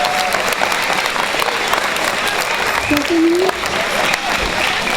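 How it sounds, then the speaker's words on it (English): A crowd at an elementary school Red Ribbon rally claps warmly for the parents in attendance, a steady wash of applause with a speaker's voice briefly heard over it. "let's give a big round of applause for being here this morning"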